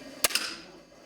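A sharp rifle shot cracks out at a shooting tournament for disabled athletes in Yakutsk, followed a split second later by a second, slightly softer report that decays quickly into quiet room tone.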